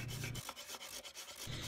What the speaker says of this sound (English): to sand all of those surfaces where we had the glue squeeze out especially.